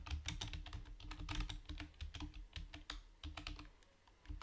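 Close, quiet typing on a computer keyboard, a fast, uneven patter of key taps with short pauses and no voices.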